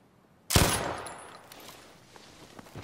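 A single loud burst of gunfire in the video game Battlefield V Firestorm cracks out suddenly and then trails off into a fading echo, with a few faint clicks afterward.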